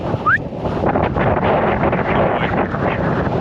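Strong wind roars and buffets the microphone continuously, loud and close, with gusty surges and no voices, on a hillside near Princetown, Dartmoor.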